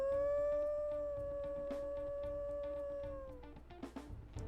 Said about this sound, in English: So a very high, short howl. And then the squeaky howl.